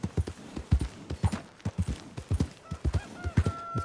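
Horse-drawn coach hooves clip-clopping in Red Dead Redemption 2, a steady close rhythm of hoofbeats on the road with a few faint honking bird calls near the end.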